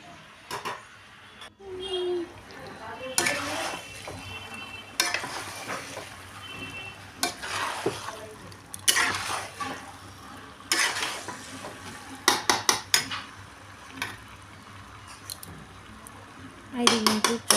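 Vegetable chochchori curry cooks in a pan with a soft frying sizzle, broken by repeated bursts of spatula scraping and metal clinks against the pan, some in quick clusters.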